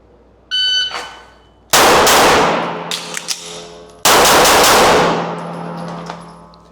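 Pistol shots from a FAST shooting drill with a reload: a short electronic beep, then loud sharp reports with long ringing decay, separated by a pause filled with small mechanical clicks and clatter before the next shot.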